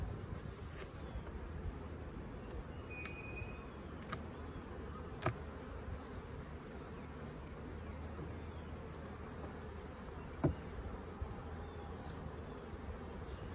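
A steady, dense buzz of many honey bees around an open hive hums continuously, with occasional individual insects flying close past; no talking.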